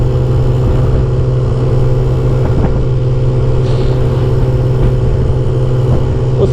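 A SYM Symphony motorbike engine drones steadily and loudly while riding on a road trip from Casablanca to Azemmour, with constant wind and road rumble throughout.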